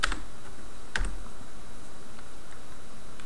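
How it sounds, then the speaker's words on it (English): Password keystrokes on a computer keyboard while logging in to a remote server over SSH: a couple of sharp clicks near the start and around one second, then faint scattered taps over quiet room noise, close by. "I'll just type my password in"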